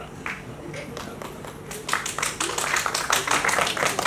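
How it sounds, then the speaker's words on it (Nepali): Audience clapping during a political speech in Nepal, starting sparse and building into steadier, louder applause in the second half, with scattered crowd noise and some talk beneath. "मैले नमागिकन यति ताली त बजाइदिनु"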